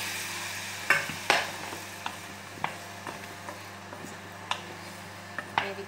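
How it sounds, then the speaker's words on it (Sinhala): Ambarella curry is stirred in a pan with a spoon that strikes the sides in a loose series of sharp taps and scrapes, over a low, quiet simmer and a faint steady hum. "ඒක හොඳට කලවම් කරලා"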